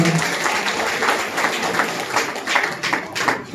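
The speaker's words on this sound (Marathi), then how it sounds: "आपण जोरदार टाळ्या वाजवून त्यांचं अभिनंदन करू" A crowd at a community function honouring a local organisation's president gives sustained applause, a broad, rough patter of many hands that swells and dips, with a few sharper claps standing out near the end.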